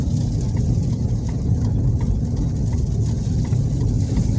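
Vehicles drive by on a road in Abdaly, Kuwait, during a heavy dust storm, a loud continuous low engine rumble with wind-like noise, close and steady, without talk.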